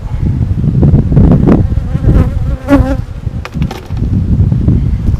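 Loud, close buzzing of many honeybees around an opened hive box, a dense droning hum with individual insects whining past near the ear.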